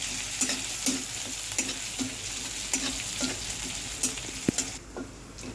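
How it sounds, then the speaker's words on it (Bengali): Chopped ginger frying in a pan for a Bengali vegetable dish, a soft continuous sizzle broken by regular scraping stirs of a spatula, close and fairly quiet, with no talk. "আদাটা আমার একটু ফ্রাই হয়ে গেছে।"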